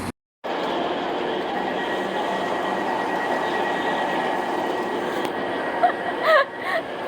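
Steady rumble and rattle of a moving train carriage in Germany, continuous and fairly loud, with a few faint squeaks near the end.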